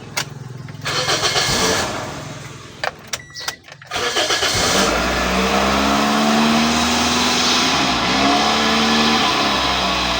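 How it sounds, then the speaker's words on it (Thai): A used Toyota car cranks with a few stuttering turns, fires up and settles into a steady idle, the engine holding a smooth close hum that gradually eases down in pitch. "โตโยต้านะครับเวลาสตาร์ทรอบแรกรอบจะขึ้นไปอยู่ที่ประมาณพันห้านะครับ"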